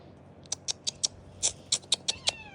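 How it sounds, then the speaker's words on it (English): Cat at a cave house terrace in Oia, Santorini, giving a series of about ten short, fairly close meows and chirps in an irregular rhythm over faint background hiss. "the best part is here you will get multiple cats, okay, in everywhere"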